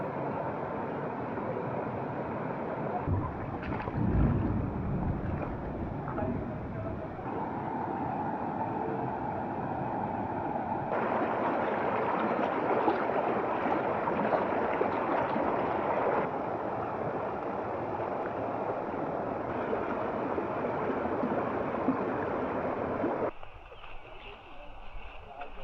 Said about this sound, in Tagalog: Nawala yung tunog ng bumabagsak na tubig, napalitan ng tunog ng ilog